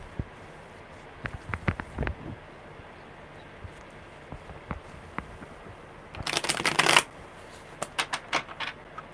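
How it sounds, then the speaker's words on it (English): Tarot cards are shuffled by hand, scattered soft riffles and taps building to a dense burst of rapid card flicking near the end, close and otherwise quiet. "One more good shuffle."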